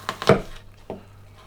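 A kitchen knife chops an onion on a board for minced beef and onion rolls, three quick close knocks in a row followed by a single softer cut after a short pause.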